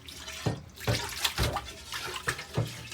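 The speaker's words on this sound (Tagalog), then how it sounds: "Hugasan niyo po ang kanyang paghahaluan ng mga seafoods." Splashing and sloshing water as a mixing bowl for seafood is washed by hand at a sink, with repeated scrubbing surges at a steady rhythm, close and fairly loud.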